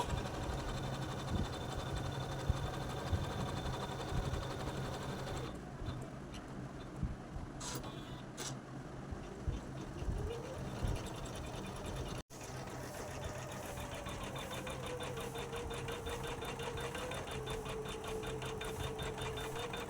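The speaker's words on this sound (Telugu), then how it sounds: "పాదాన్ని ఇలా కిందకి దింపుకొని మిషన్ అనేది స్టార్ట్ చేసుకోవాలండి ఇలా స్టార్ట్ చేసుకుంటే మిషన్ వర్క్ అనేది జరుగుతూ ఉంటుంది" Usha 550e embroidery machine stitching a neck design, giving a steady, fast mechanical whirr with a continuous rhythmic chatter that runs unbroken for the whole stretch apart from one brief dropout.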